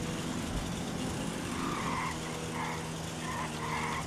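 A car in GTA 5 drifts on popped tyres, making a loud, sustained tyre squeal over a steady engine drone with no pauses.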